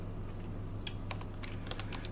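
Keys on a computer keyboard clatter in short irregular bursts of typing, faint and close over a low steady hum.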